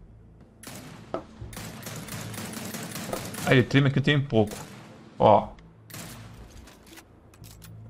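Gunfire from a video game played on a GameSir T3 gamepad comes as a short rapid burst of shots followed by a single louder blast, with someone talking before and after.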